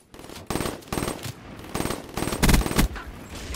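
Rapid bursts of automatic gunfire from an online shooter game, several clipped volleys firing in quick succession with short gaps, loud and close, the heaviest burst near the end.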